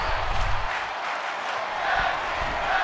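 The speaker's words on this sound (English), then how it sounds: "And the crowd's chanting tag team wrestling." Wrestling crowd at a tag team match roars in a continuous, rhythmic chant, the massed voices filling the arena at a steady moderate level with no single voice standing out.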